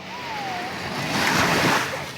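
Sea waves wash onto a beach at Vengurla with a steady rushing hiss that swells near the end, with some wind noise on the microphone.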